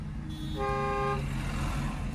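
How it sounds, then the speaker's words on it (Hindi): A single car horn sounds for about half a second amid the low rumble of moving traffic during a U-turn, its bright tone standing out over the engine noise. "कंटिन्यू हॉर्न दो लगातार"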